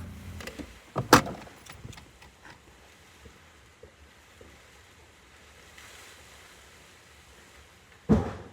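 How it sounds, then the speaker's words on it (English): A Coke bottle lands in a trash can with a sharp clatter near the start, a single loud impact, then mostly quiet room noise with faint rustles before a second firm knock at the end. "Just a moment while I throw out my Coke bottle."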